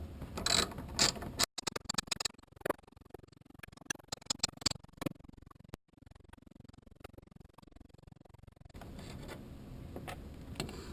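A hand ratchet works loose small 8mm bolts on a 2006 Subaru Impreza WRX, its pawl clicking in quick, close bursts that stop and restart over steady background noise.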